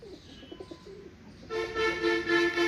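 Pigeons, a Nafta Cheena breed, coo in a rising series of soft tonal calls that begin about halfway through, fairly close and repeated in a steady rhythm over quieter earlier birdsong.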